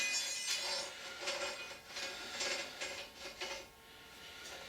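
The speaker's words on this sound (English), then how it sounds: "I'll just put a speed brace on there with the socket on." A speed brace with a socket turns the drive nut on a motorcycle lift. The clicks are quiet, close and rhythmic, repeating in a steady series before easing off.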